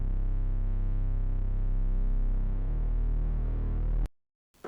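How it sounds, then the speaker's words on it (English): A smooth Reese synth bass from a metal producer pack holds a very low, thick, steadily throbbing tone for about four seconds before cutting off abruptly. "I added a bass, and it's the Smooth Reese from my new metal producer pack as well"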